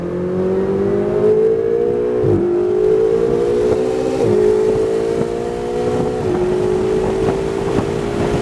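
A Ferrari on the straightaway of NCM Motorsports Park, its engine loud and close, pulling up through the gears. The pitch climbs steadily, then drops sharply at each of about four shifts before rising again.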